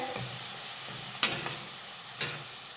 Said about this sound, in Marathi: आता यामध्ये घालूयात टोमॅटोची प्युरी प्युरी परतून घेऊयात